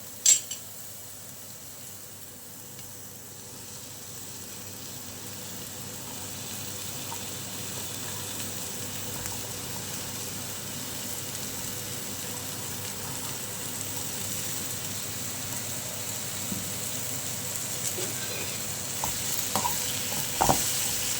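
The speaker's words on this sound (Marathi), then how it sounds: "आता हे छान परतून घेऊया आणि यामध्ये आपण ह्या भाज्या घालून घेऊया" Mixed vegetables are stirred and sautéed with a spoonful of coconut paste in a single kadhai, a continuous low sizzle with soft scraping and occasional utensil clinks that gradually grows louder.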